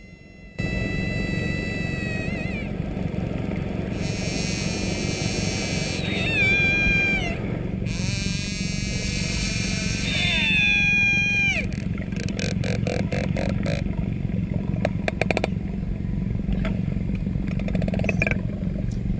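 Long, sliding whale calls rise and fall over a constant low engine-like rumble, ending in rapid clicking pulses; played loud and unbroken.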